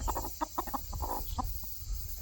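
Chickens clucking close by in a backyard flock, a quick series of short, choppy clucks over a low background hum, with no talk.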